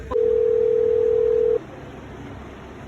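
A telephone dial tone plays while a phone call is placed, one steady loud electronic hum that sounds after a short click and then cuts off abruptly, leaving only quiet room noise.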